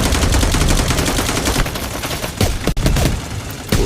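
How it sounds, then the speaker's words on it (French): Rocket launcher fire and dense battlefield gunfire in the Forefront shooter game, a loud, continuous barrage of rapid shots with a brief sharp drop near the end. "Ça tire lance-roquette."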